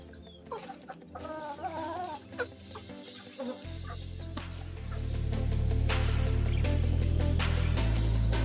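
Chickens clucking near a home garden in the Philippines, irregular close clucks and calls, then joined by a loud steady background noise that sits under the birds for the rest of the clip.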